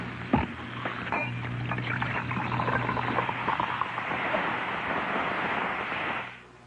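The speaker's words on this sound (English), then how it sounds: "This is the sound of Saratoga Vichy. It fizzes and fizzes and fizzes all through your drink." Saratoga Vichy mineral water fizzes in a continuous, dense, crackling hiss for several seconds before fading out, heard through a thin, old radio broadcast.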